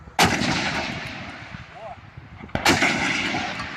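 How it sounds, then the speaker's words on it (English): Two heavy cannon blasts about two and a half seconds apart, each a sudden loud boom trailing into a long rumbling decay over a steady background roar. "Yar, boy, it's a cannon."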